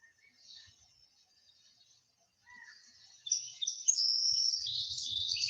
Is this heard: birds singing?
yes